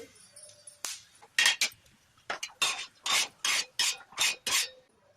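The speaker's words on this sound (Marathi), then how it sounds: "धने भाजून घेऊ." Coriander seeds dry-roasting in a pan, heard as a series of about nine loud, separate rattling scrapes and stirs, each lasting roughly a third of a second, with short quiet pauses between them and no voices.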